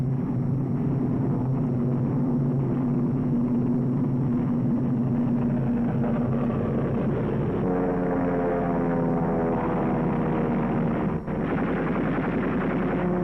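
Allied warplanes, American P-38 Lightnings and a Spitfire, take off from a WWII airfield near Bow with a steady, loud piston-engine drone, the harmonic pitch rising partway through as the engines climb.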